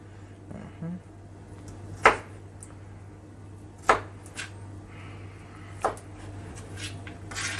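Vegetables sliced with slanted cuts on a cutting board: three distinct, sharp knife chops spaced about two seconds apart over a low steady hum, with faint softer handling sounds between.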